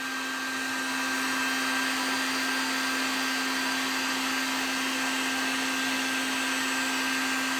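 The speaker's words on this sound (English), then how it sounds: "So we're going to put this thing on high." A Harbor Freight heat gun set on high blows a steady, loud fan whoosh with a constant motor hum, unbroken for the whole stretch and heard alone.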